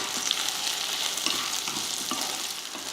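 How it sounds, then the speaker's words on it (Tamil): Roasted peanuts and tamarind sautéing in a hot pan give a dense, continuous frying crackle and hiss, close and fairly loud, with faint stirring scrapes and no voices. "நல்லா வறுத்த வேர்க்கடலை தான் ஒரு அரை கப் போட்டுக்கடலை இதையும் வதக்கிக்கலாம்"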